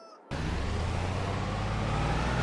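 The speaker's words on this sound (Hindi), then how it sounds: "अपनी ये वाली पिकअप एस है पहले इसको पहुँचाता हूँ मैं अंदर" Pickup truck engine in Farming Simulator 22, starting abruptly and then running as a steady low rumble while the vehicle drives into a garage.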